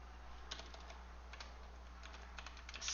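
Quiet keystrokes on a computer keyboard, a sparse, irregular run of soft clicks over a steady low hum, with no one talking.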